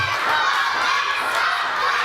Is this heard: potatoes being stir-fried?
no